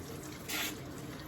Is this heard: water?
yes